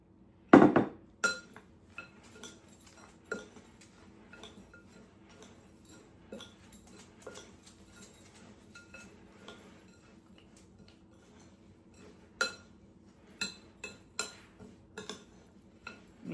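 A spoon stirs a granola mixture in a bowl, from a Harry Potter Christmas cookbook breakfast recipe, giving a sharp clink at the start followed by scattered light scrapes and taps against the bowl, close and fairly quiet with no talking.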